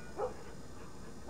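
A dog barks outside during a scene in the video game The Last of Us, with two short muffled yips separated by a quiet pause over a low ambient hum.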